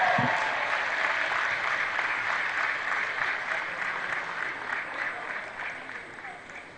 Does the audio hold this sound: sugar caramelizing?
no